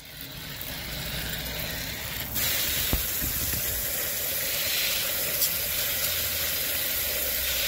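Water spraying from a hose to rinse stacked plant pots in a greenhouse, a steady broadband hiss that grows louder partway through and continues close by with no talking.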